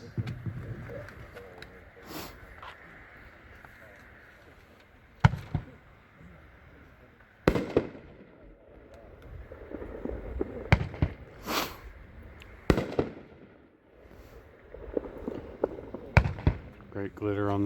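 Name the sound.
fireworks display, Mother of All Bombs firework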